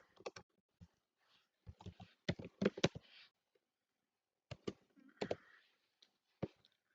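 Typing on a computer keyboard, quiet bursts of crisp key clicks in short irregular clusters separated by pauses, close and faint with no talking.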